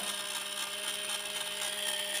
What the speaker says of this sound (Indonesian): Ini dia bor mini atau obeng elektriknya sudah selesai saya charger dan sudah hampir penuh.